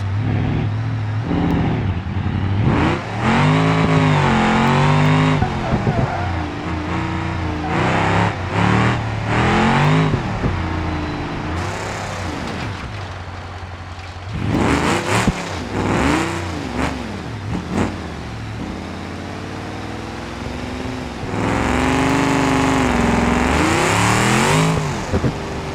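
Loud Hot Wheels race car engines in the video game BeamNG rev and roar repeatedly, pitch climbing and dropping through gear changes, with bursts of acceleration and brief quieter gaps.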